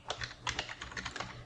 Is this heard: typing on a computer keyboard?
yes